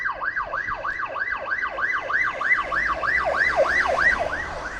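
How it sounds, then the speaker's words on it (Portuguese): A wailing ambulance siren in Venice, Italy, sweeps up and down in steady repeated cycles, loud and close, with faint road rumble underneath. "a ambulância vem com a sirene ligada"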